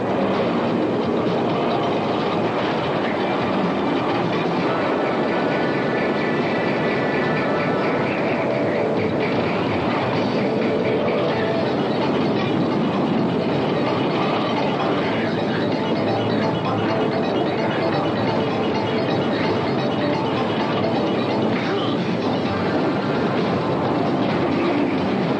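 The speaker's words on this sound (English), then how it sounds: "The movie has absolutely sensational stunts like this one on top of an elevated train." An elevated train rumbles continuously in a movie stunt scene, a dense, loud roar with rhythmic clickety-clack of wheels on rails, steady and unbroken throughout.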